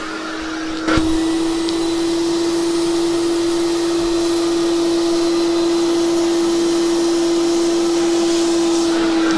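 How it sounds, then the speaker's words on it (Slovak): A vacuum cleaner cleaning a caravan mattress switches on with a thump and then runs loud and close with a steady high whine and constant roar throughout. "Zapneme si vysávač a ideme na to."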